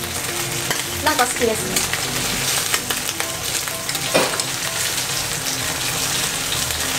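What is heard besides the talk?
bacon frying in a pan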